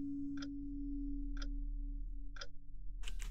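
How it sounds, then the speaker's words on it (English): A grandfather clock ticks inside a house in the video game Rakuen: three evenly spaced, crisp ticks about a second apart over a steady low hum, then a louder shuffling noise at the end. "Grandfather clock."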